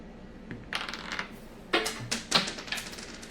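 Fate dice for the Villainous board game rolled and tumbling on a table, giving several short clattering bursts spread over a few seconds, close by and fairly quiet.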